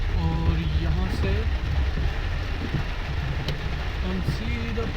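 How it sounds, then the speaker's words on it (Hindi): Heavy rain drums on a car driving along National Highway 52 toward Indore, a dense steady hiss and patter over low road rumble, with someone talking throughout. "बारिश हो रही है, बारिश भी अच्छी खासी हो रही है"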